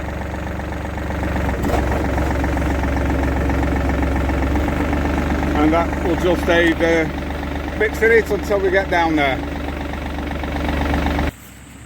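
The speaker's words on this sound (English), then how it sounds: "So engine's nicely warmed up, so engage the PTO" Tractor engine idling steadily with the PTO engaged, a constant low mechanical drone throughout while someone talks over it, cutting off abruptly near the end.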